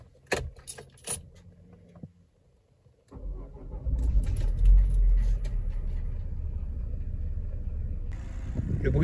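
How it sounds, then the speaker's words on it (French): Keys jangle briefly, then a 1992 Renault Safrane 2.2Si RXE engine starts and settles into a quiet, smooth idle, steady and close, with a voice speaking near the end. "Le bruit du moteur est assez discret, assez suave."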